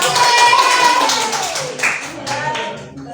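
Students in a classroom clap their hands in a short burst of quick claps and taps that fades gradually, with a voice and other sounds mixed in.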